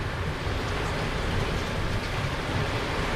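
Heavy rain pours down steadily during a fishing outing, a dense, even hiss that fills the whole moment without pause or voices.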